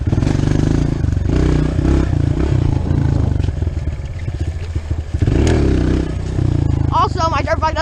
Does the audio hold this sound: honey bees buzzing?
no